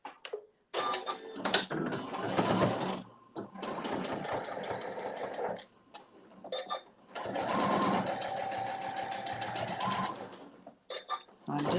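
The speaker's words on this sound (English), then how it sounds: "now we're going to be stitching right on that basting stitch" Sewing machine stitching along a basting stitch at a workshop, running in several long bursts of steady whirring with short pauses between them, close and loud, with a voice speaking in the gaps.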